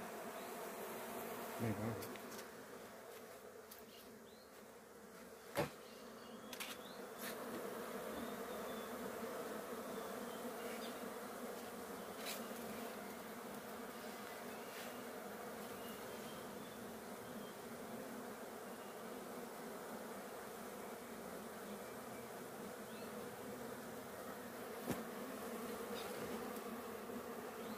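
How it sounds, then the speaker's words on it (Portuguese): A swarm of honey bees arrives and fills the air with a steady, dense buzzing that holds for the whole stretch, with a few sharp knocks and a brief spoken word over it. "as abelhas chegou aqui"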